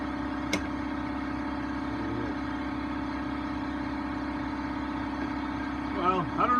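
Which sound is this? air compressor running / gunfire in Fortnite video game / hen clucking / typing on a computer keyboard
air compressor running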